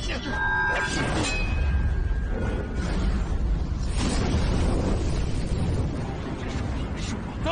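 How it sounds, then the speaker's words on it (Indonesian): Cannon fire blasts into a fiery fight between a police chief and martial arts champion in a martial arts film, heard as loud continuous explosive roar and crackling with a sharp burst near the start and another surge midway. "anggotanya dengan sengaja menembakkan meriam ke pertarungan mereka"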